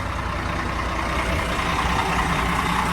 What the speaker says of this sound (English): right now my engines are on.